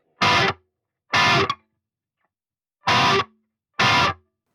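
Four short, punchy distorted electric guitar chord stabs, each followed by silence, in an uneven syncopated rhythm.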